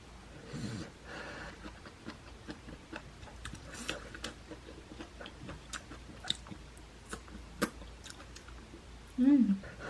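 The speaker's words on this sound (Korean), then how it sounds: "제가 묵은지도 진짜 오랜만에 먹어요" Someone chews aged kimchi, long-braised and tender, in soft close mouthfuls with small wet clicks and smacks scattered across a quiet room.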